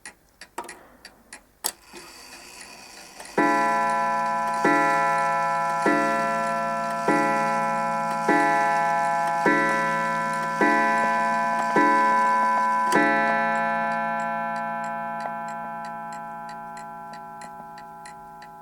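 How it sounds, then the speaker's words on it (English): An Ingersoll clock in a plain boxwood case, heard close up: a few clicks of handling, then a steady fast tick with a bright ringing resonance that slowly fades, then sharper ticking alone at the end. "let you hear the hour strike when it's fully wound"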